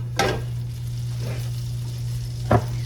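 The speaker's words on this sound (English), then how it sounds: "I have 3 tablespoons of butter melting" Three tablespoons of butter sizzle softly in a hot pan, a steady low fizz with a steady hum beneath and a couple of brief clinks or stirs.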